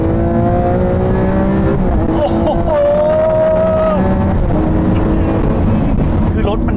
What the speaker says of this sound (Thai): เพื่อนพูดเกี่ยวกับรถเยอะแล้วฟังเสียงเครื่องดีกว่าครับ